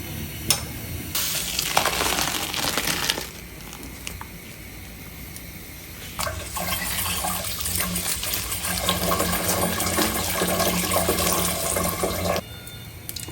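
Boiled homemade flour noodles for chowmein being poured out: splashing, gushing water in uneven bursts with quieter gaps between, close and fairly loud.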